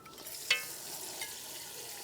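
A soft, steady sizzle of onion and ginger-garlic paste frying in a pan, with a brief scrape or clink of stirring near the start.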